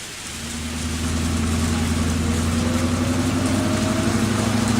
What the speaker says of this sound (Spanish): el ruido de la lluvia y del camión